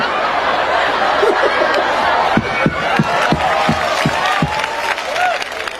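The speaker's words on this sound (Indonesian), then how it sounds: "kita tepuk tangan" A congregation at a lively Sundanese Islamic sermon claps along, with a rhythmic run of sharp claps standing out over a dense crowd murmur and scattered laughter, voices chattering throughout.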